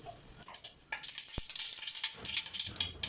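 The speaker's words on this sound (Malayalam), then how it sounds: "അപ്പം നെയ്യിലേക്ക് നമുക്ക് കടുകിട്ട് കൊടുക്കാം." Mustard seeds dropped into hot ghee in a pan sizzle and spit, quiet at first with a sharp tap, then a fuller hiss scattered with small crackling pops, faint and close, without talk.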